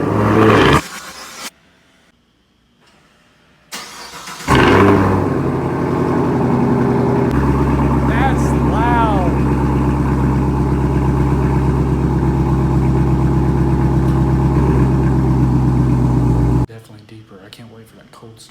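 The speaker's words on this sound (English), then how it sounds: "First ever AWE track exhaust cold start." A car with an AWE Track Edition axle-back exhaust cold-starts after a brief crank, settling into a loud, steady droning idle that holds for several seconds before cutting off, with a person talking briefly before it.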